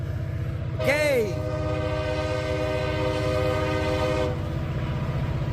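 A mixed freight train on the Wheeling & Lake Erie line in Ohio rumbles steadily past, close and loud, while its horn sounds one long sustained blast near the start and holds for several seconds.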